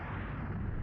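A deep, rumbling explosion from an asteroid impact fills the whole short moment with dense, heavy low-end roar, steady and loud with no pause or voice.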